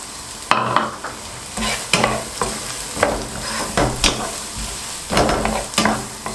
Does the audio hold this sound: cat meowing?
no